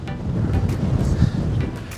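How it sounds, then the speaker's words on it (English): Wind gusting across a coastal hilltop summit in South Australia, buffeting the microphone with a rough, fluctuating low roar that swells and dips over a couple of seconds, close and fairly loud. "Oh, it's already starting to get windy"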